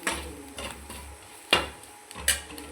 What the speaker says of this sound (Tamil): அதெல்லாம் போட்டு 3 நல்லா கலந்து வதக்கணும்.